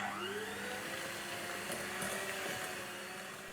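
An electric mixer whirs steadily as eggs are beaten into creamy sponge cake batter, a loud continuous motor whine with a slowly shifting pitch, heard alone.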